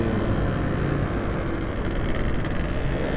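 Honda motorcycle engine idling with a fairly rough, rumbling tone, steady and close by, running alone without talk for the whole stretch.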